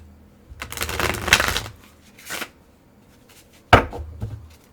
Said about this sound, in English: let's go ahead and we're going to shuffle like this